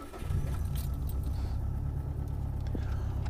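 A car with a freshly repaired exhaust header leak idles steadily after starting, its low engine rumble loud and continuous throughout, with a faint jangle of keys near the start.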